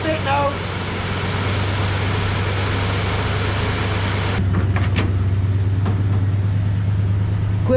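An abandoned 1970 Dodge D-100 pickup's engine idles steadily with a low, constant drone after sitting for 19 years, running with almost no fuel, while a voice talks briefly over it near the start.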